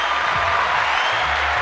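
An applause sound effect played to celebrate someone finishing a master's degree: a steady, even wash of many hands clapping at moderate volume for under two seconds, with no talk over it.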